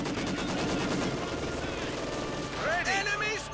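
Rapid bursts of MG42 machine-gun fire in Company of Heroes 2 rattle continuously amid dense battle noise, with someone talking over the clatter throughout.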